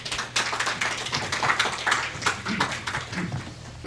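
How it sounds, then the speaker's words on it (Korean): Audience clapping at an organizational orientation gathering in LA, a scattered burst of hand claps that starts abruptly and carries on steadily for a few seconds at moderate level, alone without talk. "박수 부탁드립니다."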